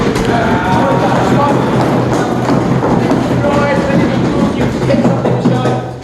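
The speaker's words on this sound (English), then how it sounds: "we can start by banging the benches" An audience at a Boston Tea Party reenactment meeting bangs steadily on wooden benches, producing a loud, dense, continuous clatter of many overlapping thumps and knocks that runs throughout.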